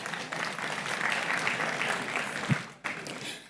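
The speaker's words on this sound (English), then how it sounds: "Please give her a round of applause." A conference audience at a dialogue event gives a round of applause, continuous clapping at moderate volume with a brief knock partway through before it resumes and fades.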